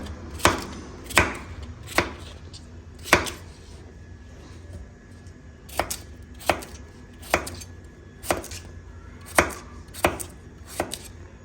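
A knife chops a vegetable with its peel still on, producing a series of about a dozen crisp, close thuds on a cutting board in an uneven rhythm, with no talking.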